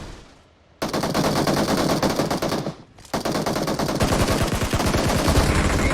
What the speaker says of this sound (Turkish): Oy uzaktan sıkıyor.